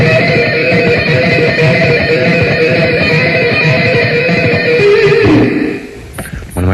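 A fast guitar lick built on a barred shape with rapid pull-offs, dense and continuous for about six seconds before cutting off sharply near the end.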